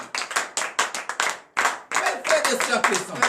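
A church congregation claps at the close of a morning prayer, a burst of sharp, uneven handclaps from many people that swells, briefly dips, then surges again, loud and close.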